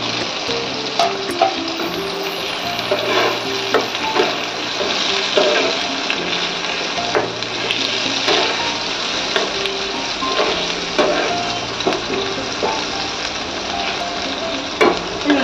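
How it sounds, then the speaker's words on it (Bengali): Chopped tomato sizzling with katla fish in hot oil in a pan, a continuous close crackle broken by repeated stirring scrapes and utensil taps, no voices. "এর মধ্যে টমেটো কুচি দিয়ে দিলাম।"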